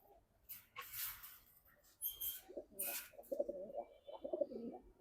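Pigeons in a loft in Hazaribagh, Dhaka, including a red makra pigeon, give low cooing calls in a short run near the end, with scattered rustling and fluttering bursts earlier and no talk.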